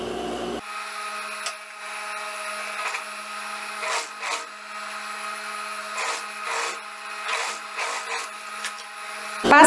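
A sewing machine runs steadily for several seconds, stitching a dress's lining to its neckline with a close, even mechanical whir and faint rhythmic ticking, then stops abruptly at the end.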